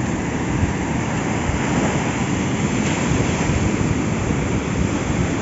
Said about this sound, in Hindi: बहुत तेज हवा भी चल रही, बारिश भी हो रही थोड़ी थोड़ी, इसलिए बहुत ज्यादा अभी तेज लहरें उठ रही हैं।